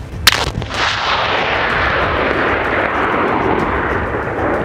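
A loud mine blast set off by border-service sappers with an EDP-R electric detonator: one sharp, heavy bang followed by a long, roaring rumble that rolls on steadily without fading, with no talk over it.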